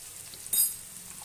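Onions sizzle in a pan with a little turmeric powder for masala chitranna, with a short burst of frying hiss as they are stirred, then a low steady crackle.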